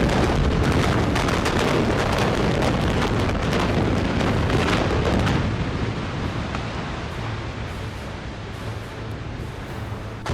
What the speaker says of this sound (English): The small explosions echo through the air